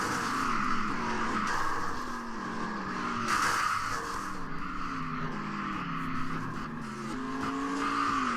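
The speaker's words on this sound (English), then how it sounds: "A scary crash for the 78 car" Race car crash in a NASCAR-style sim racing game at North Wilkesboro, with loud, steady engine drone from several cars, shifting engine pitches and tire noise throughout, the impact itself not clearly separated from the continuous racing roar.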